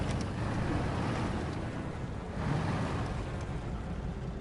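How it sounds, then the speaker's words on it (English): Heavy truck engine in the off-road driving game Expeditions: A MudRunner Game, a steady low rumbling drone with broadband roar, continuous and fairly loud throughout with no speech. "The engine sounds definitely better though."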